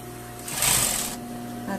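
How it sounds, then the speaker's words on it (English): Sewing machine running a collar seam on a garment, a single short burst of stitching that rises and fades over about half a second amid a steady low room hum, with a quieter restart at the end. "And sew all the way up"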